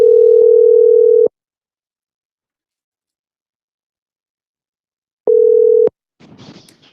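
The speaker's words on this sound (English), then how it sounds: "Let's dial up the next one." A telephone line gives a loud, steady dial tone for about a second, then silence, then a shorter burst of tone, followed by faint noise as the call connects.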